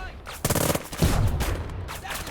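Bursts of gunfire from the tactical war game Burden of Command, two dense rattling volleys in quick succession, loud and close, with some faint background noise between them.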